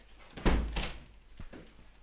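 A door swings open with a sudden thump as someone barges into a room, followed by a short scuffing settle and a softer knock; close and brief, with no talking.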